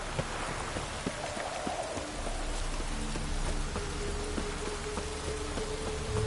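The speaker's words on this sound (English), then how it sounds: "Witches have conjured rain." Steady rain in The Witcher 3: Wild Hunt pattering on surfaces, a dense constant hiss with scattered drop taps and a faint low tone underneath.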